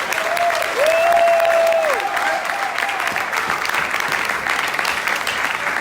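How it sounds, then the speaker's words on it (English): Audience at a business training meeting claps steadily, a dense sustained round of applause at moderate loudness with a brief whistle-like tone rising over it early on. "Try it now. Clap."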